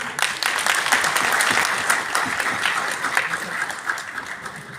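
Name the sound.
applause welcoming a speaker in a hall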